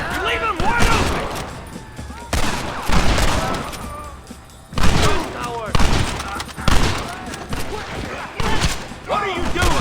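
Gunfire in Red Dead Redemption: rapid, overlapping shots and volleys cracking in dense bursts, loud and close, with shouting voices mixed in.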